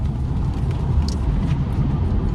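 A Mercedes car being driven, heard from inside the cabin: a steady low road and engine rumble with continuous tire noise, no voices.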